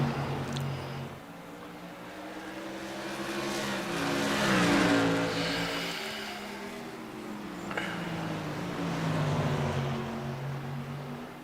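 A touring race car's engine pushed hard on track, a sustained buzzing roar that swells and fades as it passes, with pitch rising and falling through gear changes and no other sounds.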